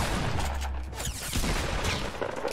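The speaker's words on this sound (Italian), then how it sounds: "Perché mi sparano da dietro?" Gunfire in the Fortnite video game, shots coming from behind the player, heard as a dense burst of game gunshots running through the whole moment.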